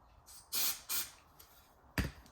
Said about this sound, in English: Bit more carb cleaner.